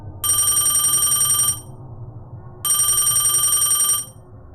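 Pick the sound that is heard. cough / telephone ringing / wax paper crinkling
telephone ringing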